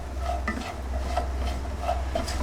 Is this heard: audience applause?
no